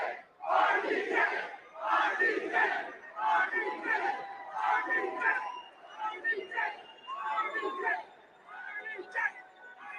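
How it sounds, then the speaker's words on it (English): A Comic Con panel crowd cheers and shouts in repeated loud bursts of massed voices, swelling and fading with a few whoops standing out. "I'm kind of getting hyped by the crowd"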